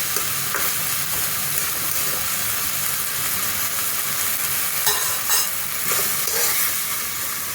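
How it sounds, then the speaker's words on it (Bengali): Dheki shak fern greens frying slowly on low gas, a steady dense sizzle with faint stirring scrapes, continuous and close, with no talk. "এটা গ্যাস কমিয়ে আস্তে আস্তে ভেজে নিতে হবে।"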